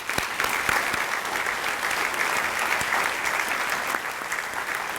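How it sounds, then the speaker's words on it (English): Applause at a United Way annual awards meeting fills the room, dense sustained clapping from a large seated audience, steady and loud for several seconds without a break. "Please join me in giving a huge round of applause"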